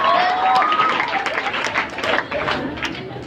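Applause from a youth crowd at a church youth service, steady clapping that thins and fluctuates toward the end, with faint crowd voices underneath.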